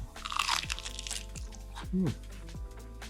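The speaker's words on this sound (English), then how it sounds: "Light, airy, crunchy batter, and then just a sweet shrimp." Crisp crunching bites into fried shrimp tempura batter, several crackly chews close to the mic, with a voice speaking briefly in the background.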